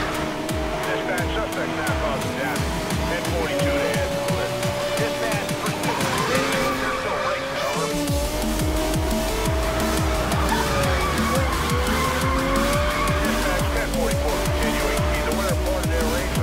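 An Ariel Atom 500 V8 drifting in Need for Speed Most Wanted (2012): a high revving engine roars continuously while tires squeal steadily through slides, loud and close throughout.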